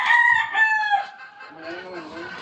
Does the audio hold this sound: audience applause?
no